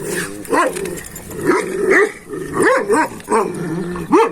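A dog, a female, barks and growls in short, loud, close bursts, about six or seven throaty barks spread unevenly with snarling between them.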